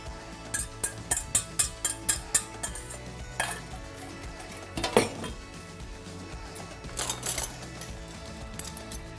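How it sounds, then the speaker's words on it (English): A whisk beats beetroot salad sauce in a bowl with a quick run of rhythmic metallic clinks, then slower scrapes and taps against the bowl, close and fairly loud. "I will give a final whisk for my sauce"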